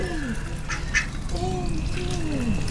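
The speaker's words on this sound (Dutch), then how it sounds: "eens kijken of de eend niet is uitgelopen." Ducks quack in an amusement park at Plopsaland De Panne, a few short nasal calls over steady outdoor noise and faint background voices.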